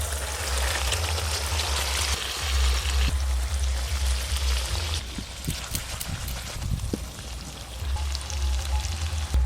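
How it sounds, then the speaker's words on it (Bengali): Turmeric-and-salt-rubbed hilsa fish pieces frying in spice paste, a loud, steady sizzle and bubbling hiss that continues throughout, close up, with occasional small pops and crackles. "এবার নুন হলুদ মাখানো মাছগুলো একটা একটা করে কোঁড়াতে বসিয়ে দেবো।"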